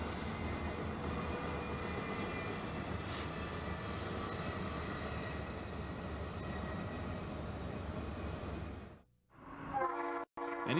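BNSF freight train rolling through the Mojave desert west of Amboy, a loud, steady rumble of wagons and engines lasting about nine seconds before cutting off, followed by brief quieter mechanical sounds.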